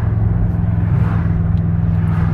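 Steady loud engine drone of a BMW M5 on a motorway, heard from inside the cabin as a deep continuous rumble with road noise and no break.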